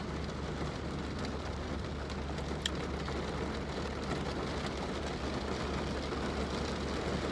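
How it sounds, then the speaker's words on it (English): Steady rain falls outside a restaurant, a dense continuous patter with no other sounds standing out. "Y'all hear that rain?"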